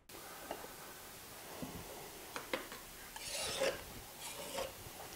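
A spatula scrapes excess wood glue off the joints of boards being glued into a panel, giving quiet, intermittent rasping strokes that grow slightly louder and longer toward the end, with no talk.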